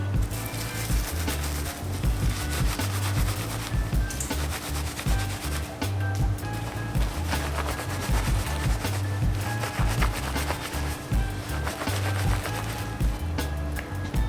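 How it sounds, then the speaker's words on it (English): Roasted hazelnuts rubbed together inside a clean dish towel to loosen their skins, giving a steady close-up scrubbing, rustling friction that continues without pause. "you're going to rub them together inside the dish towel to release the skins"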